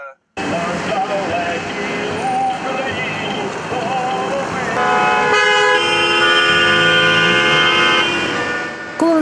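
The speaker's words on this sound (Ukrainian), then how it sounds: "Зустрічні автівки вітаються та сигналять." Many car horns honk from oncoming cars greeting a long motorcade of several dozen vehicles on a rural road in the Tiachiv district, sustained overlapping toots, loud and near, over road noise with voices in the background.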